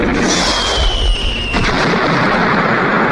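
A rocket-launcher blast in a film rolls out as a loud, sustained roar of rumbling fire that fills the whole stretch, with a thin descending whistle riding over it before it cuts off abruptly.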